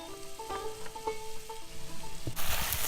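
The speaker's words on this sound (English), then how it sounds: "now I'm going to add my pears and apples. We'll give those a minute to saute." Pears and apples sauteing in butter for a chutney give a close, steady sizzle and frying hiss with a few soft stirring clicks, building to a louder, brighter crackle near the end.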